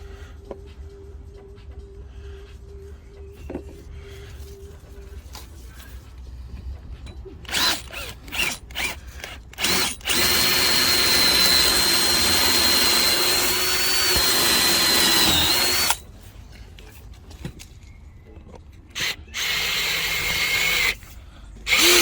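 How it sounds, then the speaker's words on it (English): A DeWalt power drill whirs in short bursts, then runs loud and steady for several seconds, stops, and gives a few more brief bursts. "So glad I bought this drill. So powerful."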